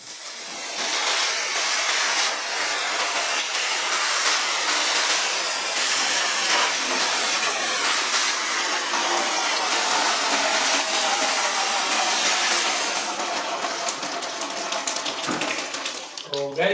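A water pump sprays a steady, hissing jet onto an air conditioner being washed at home, the runoff falling into a bucket below. The spray stays loud and continuous throughout, and a faint voice may sit beneath it.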